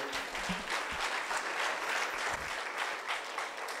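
A church congregation applauds during a sermon, a dense, sustained round of clapping from many hands with a few brief voices rising through it.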